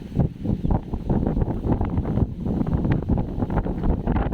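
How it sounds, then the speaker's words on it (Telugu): Cool wind blowing across an open paddy field near a neem tree, a continuous loud rush and buffeting against the microphone with no talk. "చల్లటి గాలి ప్రశాంతంగా ఉంది"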